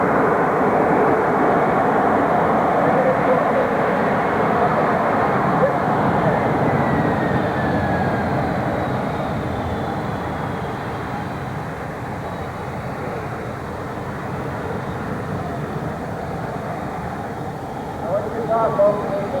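A large, heavy airplane landing at the EAA Oshkosh 2009 airshow, heard as a loud, steady broadband jet roar that slowly fades, with crowd noise and faint talk underneath.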